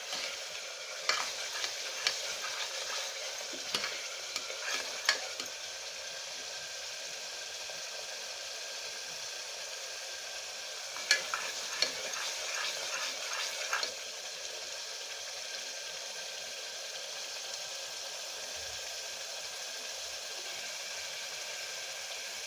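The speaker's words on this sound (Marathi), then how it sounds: "आता हे वाटण आपल्याला चांगलं तेल सुटेपर्यंत परतून घ्यायचंय" A ground masala paste is sautéed in oil for a Maharashtrian bhogi vegetable dish, giving a soft continuous sizzle with bursts of spoon scraping and stirring near the start and middle, then settling into quiet frying.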